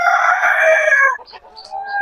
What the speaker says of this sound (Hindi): और एक हमारी मुर्गी देखो, ये बैठ गई है।